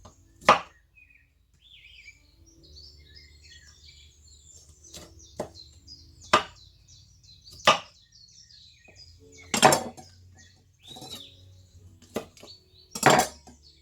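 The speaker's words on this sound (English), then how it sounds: "I'm going to continue chopping this" A kitchen knife chopping cauliflower florets on a cutting board, producing sharp, irregularly spaced chops close up, with faint bird chirps in the background and no voices.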